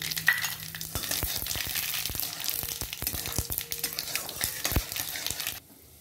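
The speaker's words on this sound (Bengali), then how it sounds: "সরষার সঙ্গে সামান্য পাঁচফোড়নও দিয়ে দিয়েছি ফোড়ন" Mustard seeds and panch phoron sizzling in hot oil for a dal tempering, a busy crackle of sharp pops and spits over a steady frying hiss, cutting off abruptly near the end.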